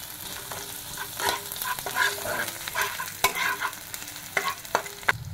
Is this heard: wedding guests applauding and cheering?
no